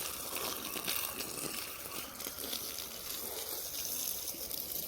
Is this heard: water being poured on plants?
yes